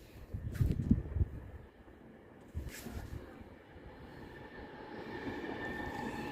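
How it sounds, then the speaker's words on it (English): Train approaching a bridge at close range, a low rumble building into sustained broadband wheel and carriage noise with faint high squeal, steady and near throughout with no talking. "there's a train coming"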